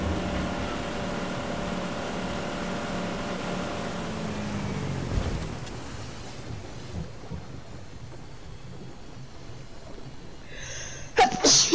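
A single sharp sneeze bursts out close at the very end, after a long stretch of low rumbling background noise.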